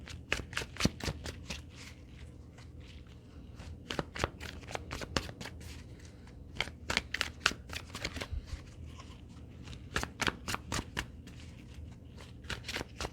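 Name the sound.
shuffling a deck of cards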